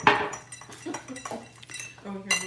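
Round ice cubes clink against a cocktail glass in a kitchen, a few light irregular chinks and rattles, close up, with people talking in the background.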